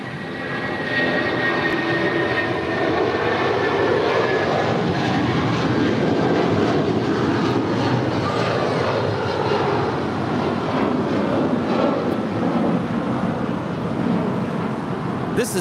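A United Boeing 757-200 jet bound for Newark departs LAX, its engines roaring in a broad, steady wash that holds loud and constant throughout with no talk over it.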